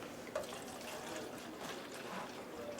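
Running tap water being fetched for watercolor painting, a soft continuous trickling and splashing with small drips, close by and alone.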